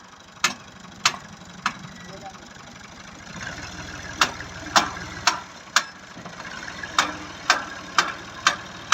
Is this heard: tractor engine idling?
yes